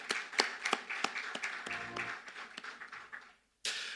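Scattered audience applause at a distinguished alumni lecture, a modest group of individual claps sounding out distinctly, with a short hum midway, tapering before a brief silence and a sudden burst of clapping at the end.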